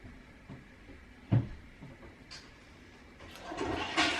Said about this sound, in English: Did you flush the toilet?